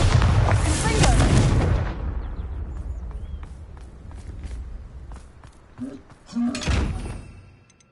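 Bombarda and Confringo spells go off in the Hogwarts Legacy video game: a loud rumbling blast fades out, then footsteps follow and a second booming burst hits near the end.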